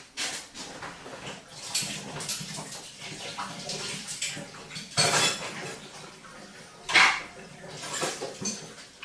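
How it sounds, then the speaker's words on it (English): Metal spoons coated in treacle are rinsed under running water in a kitchen, clinking and scraping against each other and the sink in irregular bursts over a steady wash of water. "I'm going to wash these spoons off."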